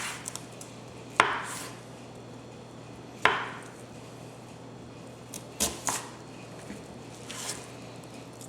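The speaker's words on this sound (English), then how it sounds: "You can also chop these up, chop your onions up if you like, but I prefer the little slices." A knife strikes a cutting board in sparse, separate thunks as onions are cut into thin slices, with about six chops spread out over a quiet background and no talking.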